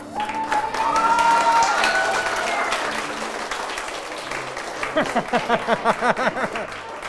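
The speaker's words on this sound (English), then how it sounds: "Let's give Abraham another huge round of applause" Applause from an audience at a 2020 school achievement ceremony honoring an award winner, a dense sustained wash of clapping that later breaks into a few distinct rhythmic claps, with a brief whistle-like tone early on.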